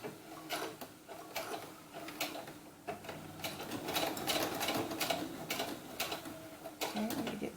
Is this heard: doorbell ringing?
no